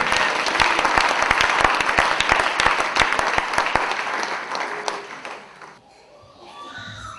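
A church congregation applauding, with loud, dense clapping that carries on for several seconds before thinning out and fading into quieter room noise near the end.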